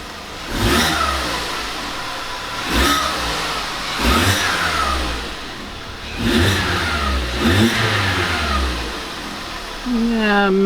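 A VW Polo Vivo engine fitted with a custom intake revs up in repeated bursts, each rise and fall loud and close, with a slightly deeper intake tone.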